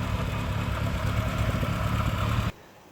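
A 1995 Ford Escort RS 2000 idles smoothly with a slightly burbly exhaust, a steady close low rumble that cuts off abruptly after about two and a half seconds, leaving near silence.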